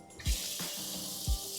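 Water runs from a tap in a camper van, fed by the van's pump at strong pressure, a steady hiss into a sink punctuated by two low thumps, heard close with no talk.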